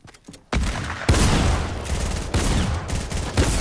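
Rapid Fortnite gunfire: a dense burst of loud, close shots that begins after a short quiet stretch and runs almost without pause to the end, with a few heavier cracks.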